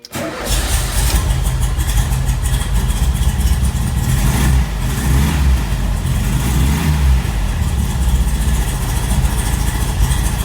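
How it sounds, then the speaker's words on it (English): A 1973 VW Super Beetle convertible with a dual-carb 1776 engine idles steadily and loudly after starting, with a rough, throbbing air-cooled putter and a slight dip and recovery in the middle. "It's warm enough that it is idling on its own now."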